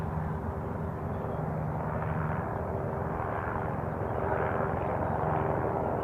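Helicopters fly near Queenstown Airport, a steady, loud rotor and engine drone holding for several seconds and rising slightly toward the end.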